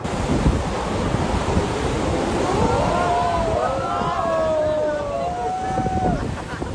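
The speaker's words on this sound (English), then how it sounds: "Monster waves." Large monster waves surge and break at sea, a steady roar of surf mixed with heavy wind buffeting the microphone throughout, with faint tonal whistles rising above the wash.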